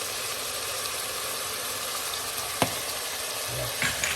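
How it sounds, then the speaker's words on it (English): Cabbage stir-fries with mixed herbs and dry thyme in a pan, giving a constant close sizzle, with one sharp clack of a utensil and a few soft stirring scrapes near the end. "Cabbage, stir-fry cabbage."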